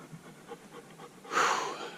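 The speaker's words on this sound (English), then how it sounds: "Apologies for the panting dog." A dog pants on a hot mountain hike in Utah's Pine Valley Mountains, quick soft rhythmic breaths close by, followed by a louder breathy burst.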